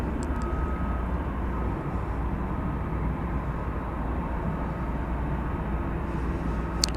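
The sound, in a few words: Singapore Airlines cargo plane on runway at DFW Airport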